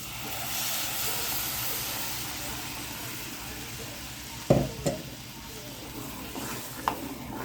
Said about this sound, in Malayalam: ഇനിയിപ്പം നമുക്ക് തൈര് ഒഴിച്ച് കൊടുക്കാം